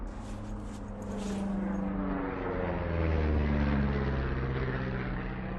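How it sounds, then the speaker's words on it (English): A propeller airplane passing overhead in the video game Firewatch, a steady droning engine hum that swells to a peak at mid-clip and then slowly fades, with no talking. "You see that plane?"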